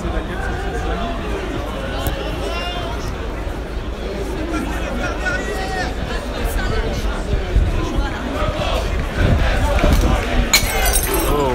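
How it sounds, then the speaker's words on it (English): A glass bottle thrown at police shatters near the end amid a large crowd at a street protest in Paris, a brief bright crash over constant loud chatter and voices. "Had a bottle thrown against the police"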